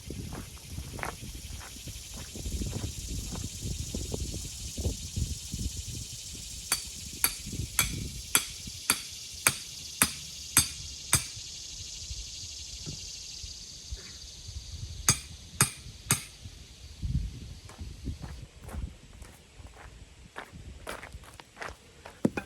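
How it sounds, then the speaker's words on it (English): Rebar being driven into the ground for a catfish rod holder, with a run of sharp, evenly spaced metallic strikes in bursts over outdoor shuffling and rustle, fairly close and with no talk. "I'll drive one in the ground and demonstrate how it works."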